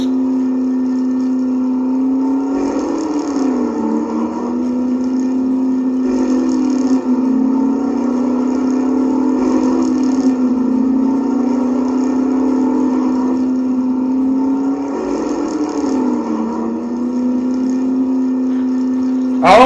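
Little red toy trucks in a heat race, with a loud, steady engine-revving effect that rises and falls in repeated swells, close and continuous with no talk.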